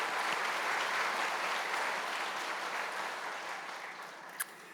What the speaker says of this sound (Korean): 우리 큰 박수로 격려하겠습니다